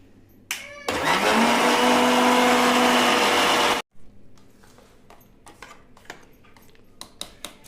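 A kitchen mixer grinder churns cream into butter, roaring loudly and steadily for about three seconds before cutting off abruptly, followed by quiet clinks and handling knocks.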